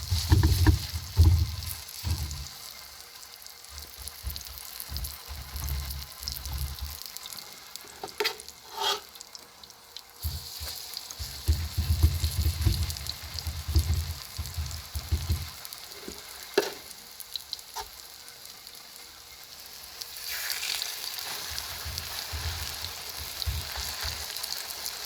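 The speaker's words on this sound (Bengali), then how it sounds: "কিছুক্ষণ রেস্টে রাখার পর শুধু তেলে ভেজে নেওয়ার পালা। চামচ দিয়ে অল্প অল্প করে দিয়ে দেবো তেলের মধ্যে।" Cabbage fritters (pakoras) of batter spooned in small portions into hot oil, sizzling and bubbling steadily over about 25 seconds, with intermittent scraping and stirring clatter and a brighter hiss swelling near the end; no talk.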